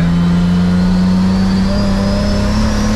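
A Toyota Supra pulls hard uphill in third gear under load, its engine droning loud and close with a steadily rising pitch as the turbo comes on boost.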